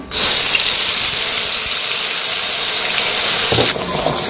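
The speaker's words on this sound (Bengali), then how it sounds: "তো এই জায়গায় মশলা ব্লেন্ডার করে রাখছি দিয়ে দিই মশলাটা" A blended paste of ginger, garlic, onion and green chilli tipped into hot oil, bursting at once into a loud, sustained hissing sizzle that holds steady for several seconds.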